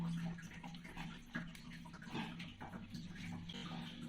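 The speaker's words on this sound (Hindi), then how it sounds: "ये पानी आ रहा है" Steady rushing of water running from a newly fitted bathroom plumbing fitting, continuous and close, with faint handling noises mixed in.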